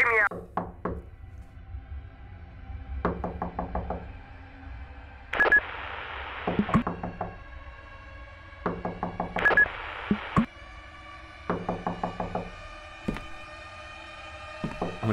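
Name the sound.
knocking on a door in the video game Fears to Fathom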